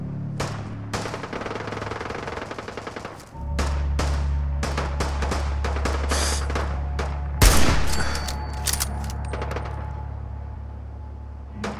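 Gunfire from a building in Fallout 4 on survival difficulty, with rapid bursts of shots and a few sharp thuds, one loud blast near the middle, heard fairly close over a low ambient drone and without talk.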